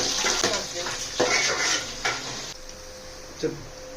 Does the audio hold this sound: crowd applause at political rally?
no